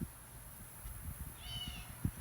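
A cat meows once, a rising faint call over low background rumble and a few soft knocks.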